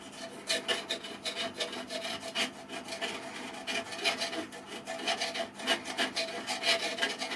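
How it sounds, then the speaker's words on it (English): Steady scraping of a metal scraper stripping an old gasket from a kamado grill, rapid rasping strokes in an even rhythm, close and moderately loud, with no voices. "we'll go back to our scraper again"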